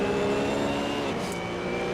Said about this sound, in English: I just want to appreciate the sound of this Z4. Yep. Very meaty V8.